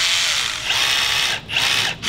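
A competitor's cordless power drill runs with the trigger held down, giving a steady loud whirring buzz that briefly dips twice before spinning back up.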